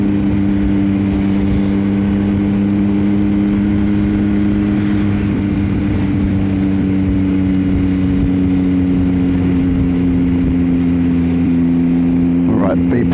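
A Yamaha XSR900 motorcycle fitted with a Kelpie exhaust holds a loud, steady engine drone up close, with a brief rise in revs near the end.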